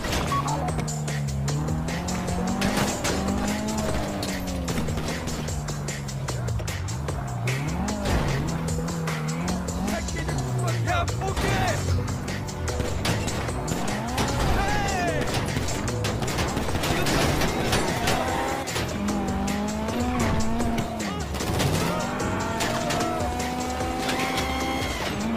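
Getaway car in GTA V driving hard with repeated tire squeals and a revving engine that rises and falls in pitch, loud and continuous throughout.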